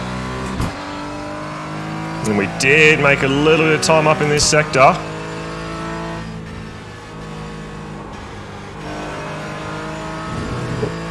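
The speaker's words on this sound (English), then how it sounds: "let's try and put the hammer down" A Porsche 718 GT4 in iRacing on Lime Rock Park revs hard through rising and falling gear pulls, loud and close, with a tire squeal before settling into a steady drone while someone talks over it.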